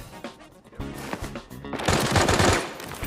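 Bursts of rapid automatic machine gun fire in the video game Arena Breakout, loud and close, with scattered single shots before a sustained heavy volley near the end.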